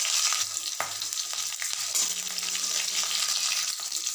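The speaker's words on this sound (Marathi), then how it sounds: "तेल चांगलं गरम झाल्यानंतर एक चिमूटभर हिंग, अर्धा चमचा मोहरी, 4 ते 5 हिरव्या मिरच्या असं मधोमध कट करून घेतलेले आहेत" Mustard seeds, asafoetida and slit green chillies hit hot oil in a pan, giving a steady bright sizzle with small crackles and a few soft knocks throughout.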